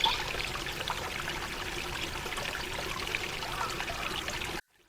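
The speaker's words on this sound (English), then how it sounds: "There is our waterfall." A small solar-powered waterfall splashes and trickles into a garden pond, a steady close pour that cuts off abruptly just before the end.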